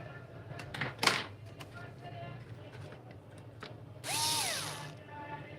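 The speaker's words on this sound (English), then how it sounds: "Now we need to install this 2 screws on here." A power screwdriver drives screws into a hybrid solar inverter in short whirring bursts, the longer final run audibly winding down, amid small clicks and handling noises close by.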